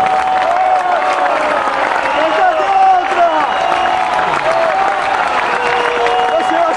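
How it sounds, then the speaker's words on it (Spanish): Audience at a folk music festival applauding and cheering: a loud, continuous crowd roar with clapping, whoops and shouting voices blended together throughout. "¡Fuerte el aplauso!"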